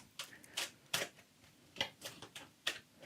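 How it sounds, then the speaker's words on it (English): Tarot cards are shuffled by hand, giving a series of soft, quick papery snaps and flutters at irregular intervals, close and quiet. "We'll just keep shuffling."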